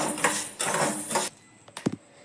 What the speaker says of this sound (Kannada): ಹುಳ್ಳಿ ಕಾಳನ್ನ ಡ್ರೈ ರೋಸ್ಟ್ ಮಾಡ್ಕೊಳ್ಳೋಣ ಇದಕ್ಕೆ ಎಣ್ಣೆ ಏನು ಅವಶ್ಯಕತೆ ಇಲ್ಲ